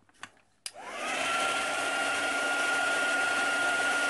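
A hair dryer drying a tea bag clicks on and settles into a loud, steady whooshing blow with a high whine, running continuously after a couple of soft clicks.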